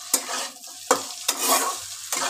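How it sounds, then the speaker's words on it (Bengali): Potato pieces fry together with onions in a pan, giving a close, loud sizzle broken by several sharp scrapes and stirs of a spatula. "এইবার আলুগুলোকে পেঁয়াজের সঙ্গে একসঙ্গে ভাজা করব।"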